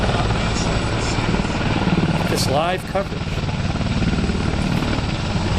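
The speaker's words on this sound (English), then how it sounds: "We're looking at the helicopter for whatever it's worth." Helicopter flying overhead during live news coverage, a loud continuous rotor and engine roar with a brief dip midway, someone talking over it.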